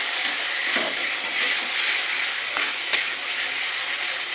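Khichuri ingredients sautéing in a pan with a little sugar, a steady broadband sizzle with faint scraping stirs, close and continuous with no talking.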